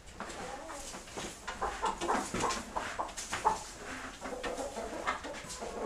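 Chickens clucking in a busy flock inside a coop being mucked out, a steady stream of short overlapping clucks and squawks, fairly close, with scuffling underneath.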